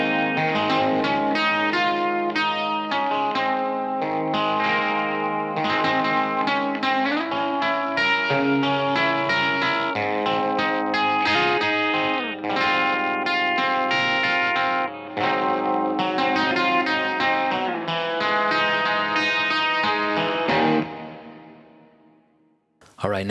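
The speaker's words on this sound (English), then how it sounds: "we're going to hear some really lush hall verb and chorus applied to this part" Guitar part drenched in lush hall reverb and chorus from a Lexicon PCM 70, dense sustained chords ringing continuously and loudly for about twenty seconds before fading into a long reverb tail.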